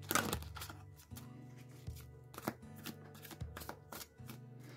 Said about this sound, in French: au niveau de la glisse, ben, il se mélange super bien